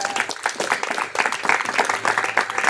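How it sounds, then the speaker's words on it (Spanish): Applause from a church congregation, dense and steady throughout, with a few voices faintly mixed into the clapping. "¿Cuánto le da un fuerte aplauso al Señor?"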